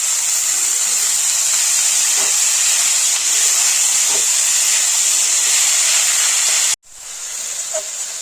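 Banana flower hits hot oil with fried spices, salt and a little sugar for a Bengali mochar ghonto, giving a loud, steady sizzle that cuts out briefly, then resumes.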